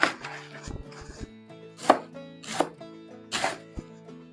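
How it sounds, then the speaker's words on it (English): A knife slices cabbage for sauerkraut on a cutting board with several distinct, crisp crunching cuts spaced unevenly, close and clear over a faint tonal background hum, no talking. "so now we'll just slice it up into the size pieces that we want."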